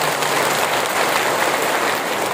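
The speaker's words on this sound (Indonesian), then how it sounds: "Boleh tepuk tangan untuk beliau." Loud, dense crowd applause at a large outdoor religious gathering in Baubau, Buton, a continuous wash of clapping hands with no voices over it, brief and steady throughout.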